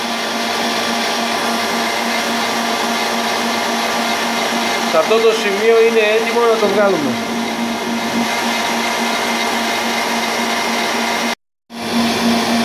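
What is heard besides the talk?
electric mixer beating eggs and sugar for tsoureki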